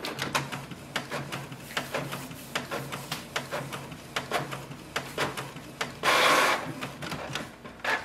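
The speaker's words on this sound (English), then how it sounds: "It's going to print a nozzle check sheet" A Canon Pixma G6020 inkjet printer runs a nozzle check sheet, with rapid, repeated mechanical clicks and whirs of the print head carriage and paper feed, and a louder sustained burst near the end, close and alone.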